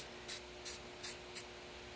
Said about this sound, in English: Go ahead and spray it on. And it's just like spray paint.